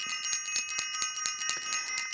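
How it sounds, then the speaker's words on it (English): A small bell rung rapidly and repeatedly, about nine bright, ringing dings at an even pace, close and clear, with no talking. "I'm going to ring the bell for Self-Invested"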